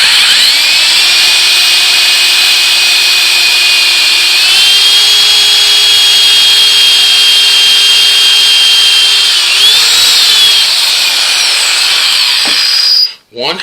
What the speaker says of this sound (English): I need to drill 3 holes in it